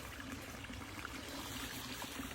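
A small creek swollen after heavy rain runs under an old country road, a soft continuous trickling and gurgling flow heard faintly from nearby with no talking.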